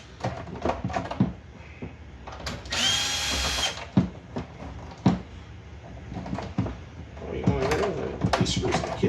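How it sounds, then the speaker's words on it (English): A power driver briefly whirs to back screws out of a Falcon RC car, one clear burst of motor whine amid clicks and handling noises, with a person talking nearby. "Let's get in here and pull the screws up out"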